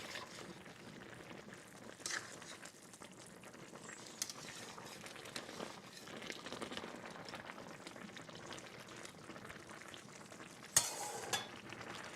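Sweet and sour pork chops simmer in a covered pan, a faint steady bubbling and soft sizzle close by, with a brief clink or lid knock near the end.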